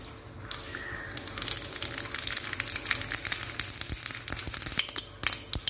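Steady crackling sizzle of a spoon of mustard seeds popping in hot oil, close up, with scattered sharp pops throughout.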